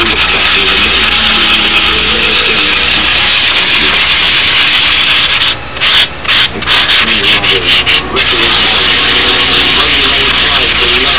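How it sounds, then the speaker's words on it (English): A foam block rubs back and forth over the filled, silver-coated surface of a model aircraft, a loud, close, continuous scratchy sanding with a few brief pauses near the middle. "Some of this obviously has to be sanded with a foam block"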